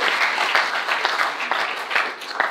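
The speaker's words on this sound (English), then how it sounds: "so applause for her even though she's not here" An audience at a talk applauds, a dense steady patter of many hands clapping together at moderate volume for a few seconds, with faint voices underneath.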